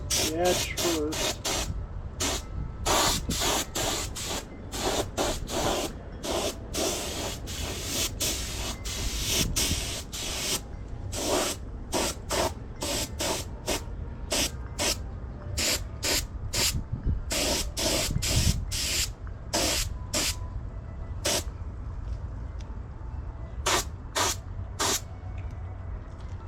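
Paint spray gun laying a second coat on a motorcycle side cover for a 1972 Honda CB500 Four, a steady close hiss broken into many short bursts with brief pauses between passes, with someone talking over it.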